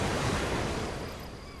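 Steady rushing of flowing water in a Minecraft Technic modpack world, a continuous broadband wash heard alone without any talk.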